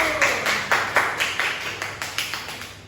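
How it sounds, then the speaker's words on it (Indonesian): Elementary school pupils in a classroom clapping in unison, a rhythmic series of about ten sharp, evenly spaced claps in a reverberant room, each burst decaying quickly before the next. "Oke, beri tepuk tangan dulu."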